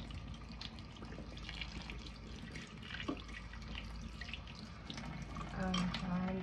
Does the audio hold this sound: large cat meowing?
no